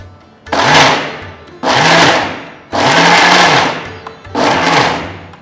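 A mixer grinder pulses ridge gourd chutney in four loud, whirring bursts, each about a second long, with short quieter gaps between them.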